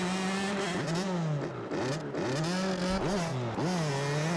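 A 125 dirt bike engine in the MX vs ATV Supercross video game revs hard and unevenly, pitch swooping up and down repeatedly as the clutch is bumped, loud and close throughout without talk.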